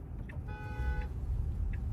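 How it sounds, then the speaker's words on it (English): A car horn honks on a downtown Denver street, one clear sustained blast of about half a second amid low traffic rumble, fairly close and loud. "That dude was honking at me."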